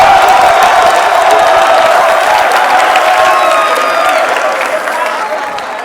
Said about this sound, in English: Let's give a round of applause to our quiz mistress as she brings the trophy to the winning